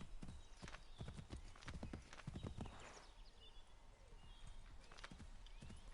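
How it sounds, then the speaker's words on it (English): Rhythmic hoofbeats of a horse galloping in the video game Assassin's Creed III, clip-clopping quickly at first and then thinning out, with a soft whinny and a low background hum. "Faster to travel by horse."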